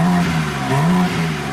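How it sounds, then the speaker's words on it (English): A 2023 BMW M3 exhaust rumbling close up, with a brief rise and fall in pitch as the engine is revved. "Let me get some exhaust tones from the back"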